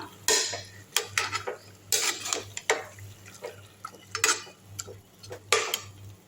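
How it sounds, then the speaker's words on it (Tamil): Metal utensils scraping and clinking against a pot of chicken biryani being stirred, in irregular bursts, with a steady low hum underneath and no talking. "நல்லா கிண்டி விட்டுக்கலாம்"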